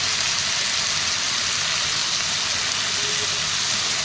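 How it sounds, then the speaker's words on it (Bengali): Potatoes frying in a pan with turmeric powder give off a steady, loud, dense sizzle that holds evenly throughout without any talk. "আলুগুলোকে দিয়ে বেশ কিছুক্ষণ নাড়াচাড়া করে বেশ লাল লাল করে ভেজে নেব।"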